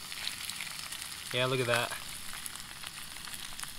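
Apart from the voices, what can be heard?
brook trout frying in a pan with rice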